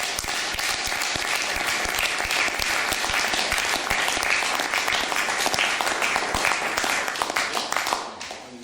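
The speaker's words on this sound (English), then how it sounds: "Ask you to give a round of applause." Sustained applause from an audience at the close of a talk on Keir Hardie and protests against the First World War, dense steady clapping for several seconds before tapering off at the end.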